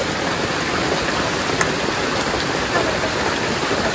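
Steady rain falling on a house, a dense continuous patter with no voices and no breaks.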